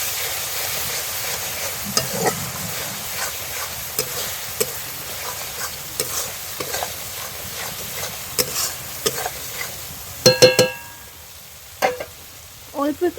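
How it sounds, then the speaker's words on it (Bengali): Pangash fish curry masala is stir-fried in a pan village style, with a steady soft sizzle of oil and repeated scraping strokes of a spatula against the pan, plus a few louder clanks near the end. "ভালো করে কষিয়ে নেব।"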